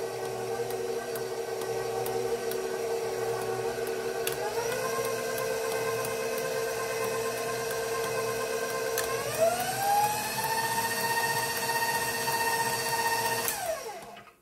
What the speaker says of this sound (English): I'm gonna leave it alone, and I'm gonna let it mix